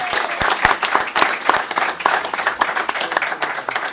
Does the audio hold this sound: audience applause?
yes